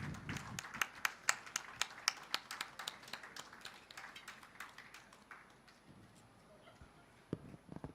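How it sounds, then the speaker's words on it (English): Audience applause for a souvenir presentation at a summit event, scattered sharp individual claps in an irregular rhythm, fairly faint and thinning out over several seconds. "Thunderous applause, ladies and gentlemen."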